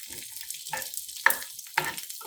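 Sliced shallots, curry leaves and red chillies crackling in coconut oil with mustard seeds, a light steady sizzle broken by a few sharp spits and stirring scrapes.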